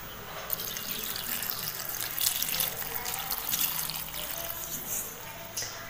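Water is poured into spices being ground into masala for a Tulu-style mackerel fish curry, making a steady splashing trickle that runs close and unbroken for about six seconds.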